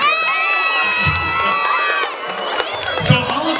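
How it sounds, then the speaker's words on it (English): A crowd of teachers cheers, shouts and whoops at an award ceremony, a dense, loud burst of voices and applause-like noise that swells briefly near the end. "It's okay to cheer, it's all right"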